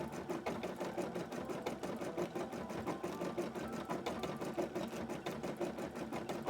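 A sewing machine running steadily, stitching tacking stitches through a large embroidery, its rapid rhythmic needle chatter close and continuous throughout.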